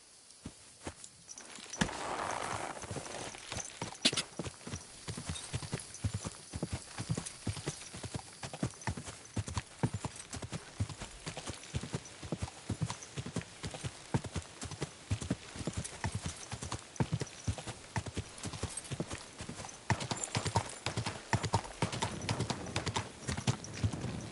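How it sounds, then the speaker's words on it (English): Steady clip-clop of horse hooves trotting at an even pace for a long stretch, fairly close, with a brief whinny-like sound near the start, from the video game Kingdom Come: Deliverance II. "This horse must be caught."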